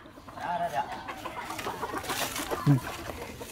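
A farmyard chicken clucks nearby, with several short, throaty calls scattered over a few seconds against rustling background noise and faint voices.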